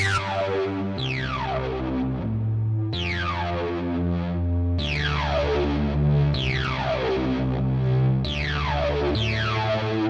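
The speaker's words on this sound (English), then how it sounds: "Let's do a distortion type. How about a high gain so we can really crunch it?" Heavily distorted bass notes from a high-gain distortion effect played in a slow riff, each note crunchy and sustained with bright, gritty overtones and a swirling, echoing tail.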